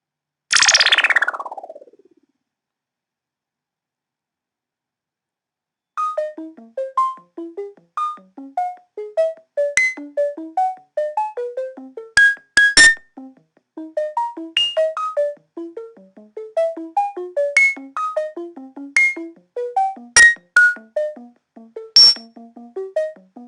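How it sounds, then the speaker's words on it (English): An ARP Odyssey synthesizer opens with a bright descending sweep, then after a pause plays quick runs of pure, beeping chirp tones with occasional sharp pinging accents, clean and alone with no voices. "Some sounds of the ARP Odyssey."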